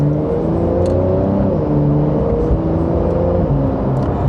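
A Porsche 911 Carrera 992.2 accelerating in second gear in Sport Plus mode, its engine note rising steadily and loud from the cabin with a dense continuous roar and no talk.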